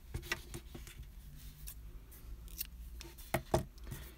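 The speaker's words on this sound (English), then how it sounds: "we're going to cut the yarn" Scissors snipping crochet yarn, a few faint quiet clicks and snips with a couple of sharper cuts near the end, close by in a quiet room without speech.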